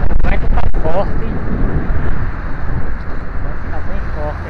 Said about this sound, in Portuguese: O vento tá bem forte aqui.